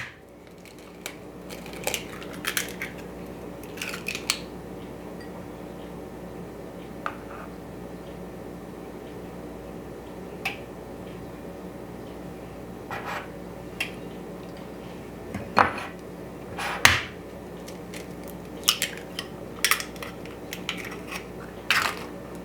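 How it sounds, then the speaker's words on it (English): Eggs cracked against a bowl rim while preparing gluten-free eggnog: scattered sharp taps and crunchy shell breaks, a few close together, heard alone against faint kitchen room tone. "But I'm going to start cracking my eggs first."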